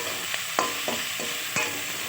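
Homemade pasta with turmeric fries in a pan, a soft constant sizzle broken by several distinct scraping stirs of the spatula, close and alone without voices.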